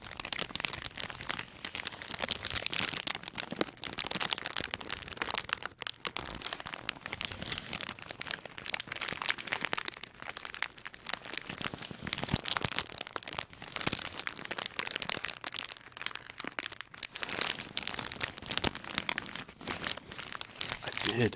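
Black packing paper from a Nike Air Force 1 Low Retro shoebox being handled during an unboxing, giving continuous close, crisp crinkling and rustling throughout, at a fairly soft level.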